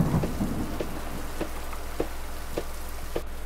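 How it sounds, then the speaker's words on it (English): Storm in the video game The Lighthouse: steady, loud rain hiss fills the scene, broken by a series of sharp thunder cracks and rumbles at irregular intervals. "it's all shitty and stormy out there"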